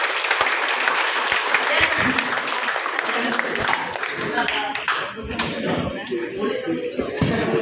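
An audience at a college seminar applauds loudly and steadily after a certificate is read out, with sharp individual claps in the mix and a voice talking as the clapping thins toward the end.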